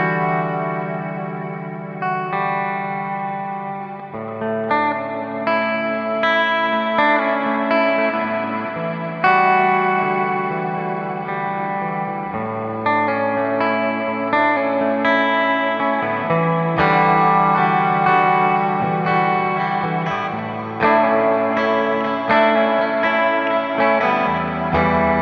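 Electric guitar through a Chase Bliss Mood MkII pedal at its longest, highest-sample-rate reverb, playing sustained chords and melodic lines drenched in long, washy reverb, steady and fairly loud throughout with no voices.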